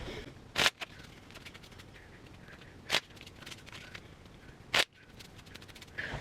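Cards being shuffled three times in quick riffling bursts, spaced a couple of seconds apart, with quiet handling sounds between; no talking.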